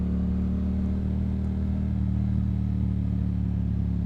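A Yamaha MT07 motorcycle riding a twisty road gives a steady, loud, low engine drone that holds an even pitch throughout, heard from on board with no speech.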